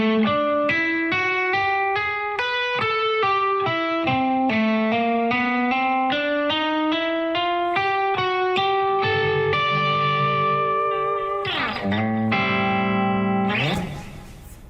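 A distorted electric guitar plays a slow fusion lick of steady, evenly spaced notes climbing upward, then settles on a ringing minor 11 chord with an A in the bass before a brief strum and fade.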